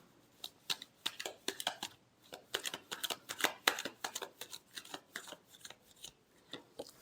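Tarot cards being shuffled in a riffling, uneven rhythm of quick papery flicks and slaps, close and fairly quiet, continuing steadily with no voices.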